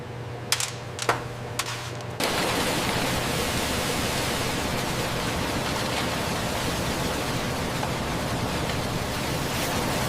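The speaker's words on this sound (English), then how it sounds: "High-speed air currents blast away the thin, brittle husks to leave only the pure cocoa nibs" Cocoa bean winnowing machine blasting husks off with high-speed air, a loud steady roaring rush that starts abruptly after a couple of brief clicks and continues unbroken.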